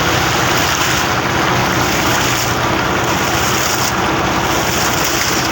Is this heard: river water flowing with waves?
yes